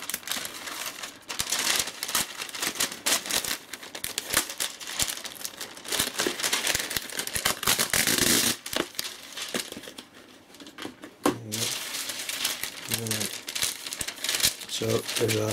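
Wet paper is crumpled, crinkled and torn close up in a dense, continuous rustle with sharp ripping bursts, while a person talks over it at times.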